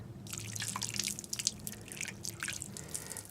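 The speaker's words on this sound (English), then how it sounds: "Let me put a little water on here, see what happens." Water poured onto a piece of rock gives close, quick, irregular splashes and drips, a dense patter of small droplets that lasts a few seconds.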